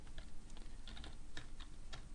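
Typing on a computer keyboard while writing PHP code, a quick irregular patter of soft key clicks with occasional sharper taps, fairly close and alone without speech.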